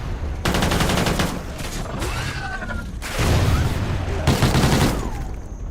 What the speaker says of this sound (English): I love the AK-12 in this game. I genuinely believe it has one of the best sounds